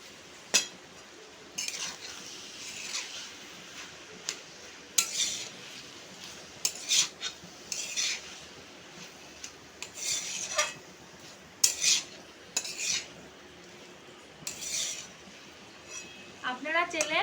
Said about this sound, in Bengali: এবার আমি নারকেল কোড়াটা দিয়ে দেবো এর ভেতর। দিয়ে আবার আমি নাড়াচাড়া করে নেব।